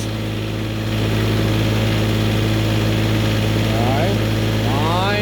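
A portable generator engine runs steadily under a 1,500-watt load, producing a loud, continuous drone with a constant low hum. Faint rising and falling whines appear toward the end.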